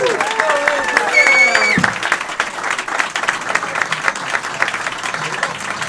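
Crowd at an office-opening campaign rally in Plymouth, New Hampshire applauds and cheers as a speaker is introduced, with whoops and shouts at first and then steady clapping that fills the room.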